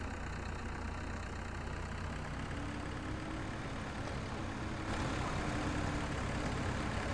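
Tractor engine driving in the video game Farming Simulator 17, a steady rumbling drone that grows slightly louder partway through, with no talk over it.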